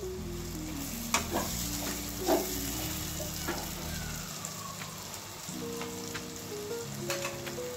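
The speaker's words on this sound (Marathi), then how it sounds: "तेल सुटेपर्यंत परतून घ्यायचे आहे।" Masala sautéing in hot oil for paneer masala sizzles steadily and loudly throughout, with a few scraping stirs of the spoon in the pan and no talk.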